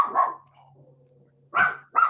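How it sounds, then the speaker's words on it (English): A pet dog barks nearby, two or three sharp, excited barks separated by a pause filled with a faint low hum, close and fairly loud with no talking. "my dog is excited about it"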